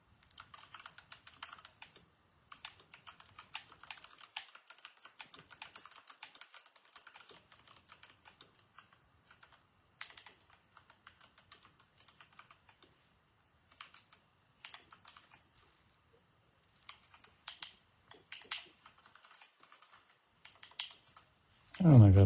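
Fast typing on a computer keyboard, with dense, irregular bursts of clicky keystrokes and short pauses, close and clear throughout, ending with a brief louder thump.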